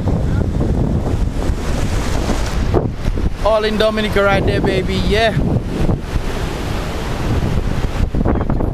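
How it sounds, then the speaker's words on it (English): Atlantic Ocean surf and wind near the Pagua River mouth in Dominica, a steady broadband wash of waves and wind buffeting the microphone, with someone speaking briefly over it midway. "And this is the sea, the Atlantic Ocean actually."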